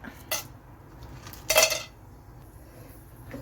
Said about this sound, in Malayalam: ഒരു 3 ബേ ലീഫ് കൂടി ചേർത്ത് നമുക്കിതൊന്ന് ഇളക്കാം